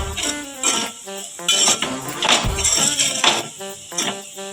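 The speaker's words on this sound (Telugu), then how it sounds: "వేసుకొని కలుపుకోవాలండి" Potato fry seasoned with garam masala gets stirred in a metal pan, a close, fairly loud run of scraping and clinking strokes of a spoon against the pan in quick irregular bursts.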